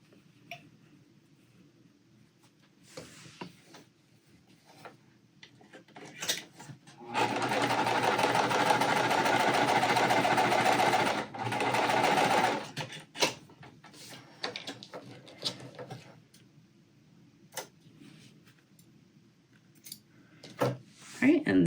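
A sewing machine stitches quilt squares in one steady, loud run of about five seconds, with a brief pause near the end, framed by quiet handling clicks and rustles before and after.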